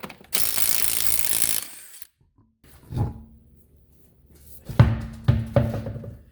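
A 19 mm ratchet whirs in a loud burst removing wheel nuts on a 2010 Subaru Impreza, then after a pause come a few sharp metallic clicks and knocks nearby, with no talking.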